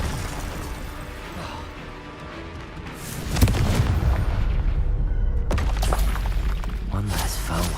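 Blasting spell detonating in the Hogwarts Legacy video game: a quieter rumble builds, then a sudden heavy boom erupts and keeps crashing and roaring loudly through the rest.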